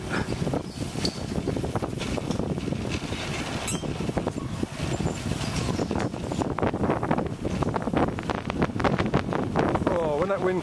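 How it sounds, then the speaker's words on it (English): Steady, loud wind buffets the microphone on an ICE Trike Sprint X recumbent trike during a long anniversary group ride, a continuous roar with gusty flutter throughout. "when that wind comes up, it's still a bit fresh"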